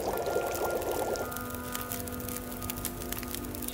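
Water being boiled in The Long Dark survival game: a bubbling, pouring rush sounds for about a second, then gives way to a quieter steady hum with no talk.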